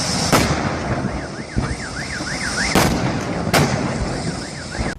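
An electric vehicle explodes with sharp, loud bursts at irregular intervals, set against a wailing, rising-and-falling alarm tone and constant background noise.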